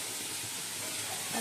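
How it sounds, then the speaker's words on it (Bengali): Spices are fried down in a pan for a soybean and potato dish, a continuous close hiss and sizzle with faint stirring, steady throughout and with no voices. "ভালো করে মশলাটা কষে নিচ্ছি।"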